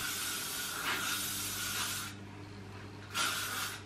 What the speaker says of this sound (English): Now what I'm going to be doing is spraying some hairspray on.